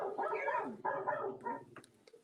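A dog barks in a quick run of sharp yips and bow-wows, fairly close, followed by a brief pause and a couple of fainter whimpering yips at the end.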